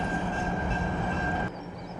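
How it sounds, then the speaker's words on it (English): A diesel locomotive train runs with a steady rumbling roar and a sustained tonal hum, close and continuous, dropping slightly in level toward the end. "Say you want to take a scenic ride with this diesel locomotive."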